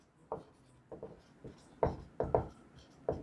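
Chalk or marker strokes on a board during a lecture on line integrals, heard as about seven short, scratchy taps and scrapes in irregular bursts, close and moderately quiet with no talk.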